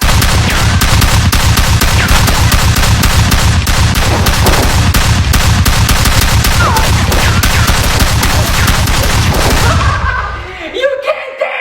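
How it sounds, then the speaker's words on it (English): Large Nerf guns fire in a battle, a dense and loud stream of rapid mechanical bursts that runs almost without a break. Voices shout over the firing before it cuts off and trails away near the end. "Big ass Nerf guns!"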